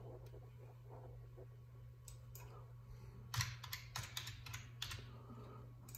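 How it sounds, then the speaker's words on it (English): Typing on a computer keyboard: soft close key taps in small irregular bursts, quiet over a steady low electrical hum. "Let me type this in here on Google."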